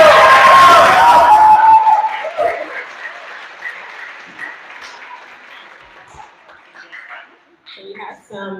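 An audience at a school press event for PS16 gives a round of applause, loud and dense at first and then thinning into scattered claps and murmuring voices as it fades over several seconds.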